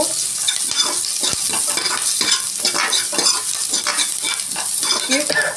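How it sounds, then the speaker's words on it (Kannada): Curry leaves frying and sizzling in a pan as the tempering for avarekalu (hyacinth bean) sambar, a steady, loud, close sizzle broken by soft stirring scrapes, with no voices. "ಕರಿಬೇವಿನ ಸೊಪ್ಪು, ಎಲ್ಲ ಫ್ರೈ ಆಗಿ ಕೆಂಪಾಗಬೇಕು."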